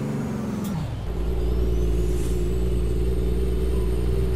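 A Kenworth T800 truck's engine drops in pitch as it brakes from speed, then holds a loud, heavy rumbling drone close by with a brief hiss near the start and no talk.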